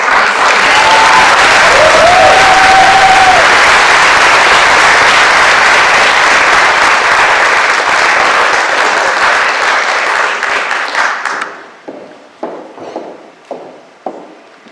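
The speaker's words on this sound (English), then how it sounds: "a huge round of applause for Natasha Price." Loud, sustained applause from a graduation ceremony audience fills the hall, then thins out into a few scattered, fading claps.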